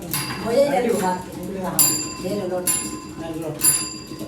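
Bell on the counting mechanism of a Sambalpuri handloom rings with bright metallic dings at regular intervals amid loom clatter, while someone talks throughout.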